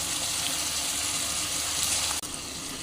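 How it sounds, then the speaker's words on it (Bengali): Water gushes steadily into a cooking pan of spiced potatoes and taro for a Bengali fish curry, a continuous close pour that cuts off abruptly near the end. "দিয়ে দেবো অল্প জল"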